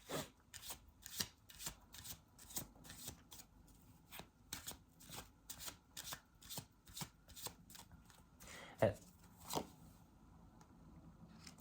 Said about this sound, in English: Let's pull another card to see if there's any more messages about this.